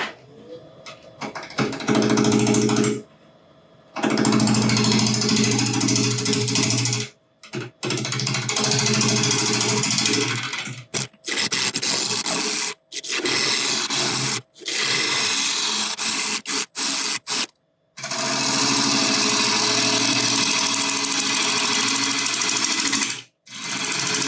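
A wood lathe spins a soft black locust burl as a bowl gouge cuts it, giving loud, continuous rough scraping and rumbling in long bursts broken by several short silent pauses.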